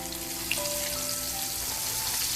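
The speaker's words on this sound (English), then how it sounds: "And I'm cooking in corn oil because corn oil is good." Whiting fillets frying in corn oil give a steady, even crackle and hiss that holds at a moderate level, with a faint tonal hum running underneath.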